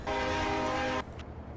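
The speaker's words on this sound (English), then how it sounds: "One thing I like about this truck, it's got a massive horn." A massive logging truck horn in Farming Simulator 22 blares loud and close in one sustained rich blast for about a second, then cuts off, leaving only a low engine rumble.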